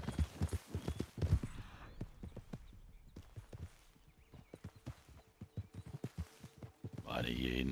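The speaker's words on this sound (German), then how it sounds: "Bisschen viel Pferde hier." Horse hooves clip-clop steadily on the ground in Red Dead Redemption 2, with several horses close by making a dense, uneven rhythm of hoof strikes. Voices talk over the hoofbeats, and a brief louder burst of noise comes at the end.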